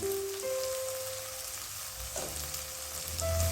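Tomatoes fry in a pan with chilli powder and turmeric for a Marathi onion kurdai bhaji, giving a steady close sizzle with soft crackling throughout and no talk.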